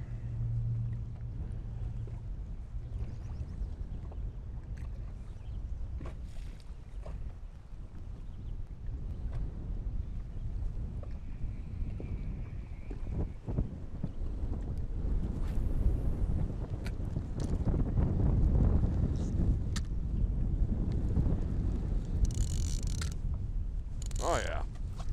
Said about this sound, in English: Well, the wind's really picking up.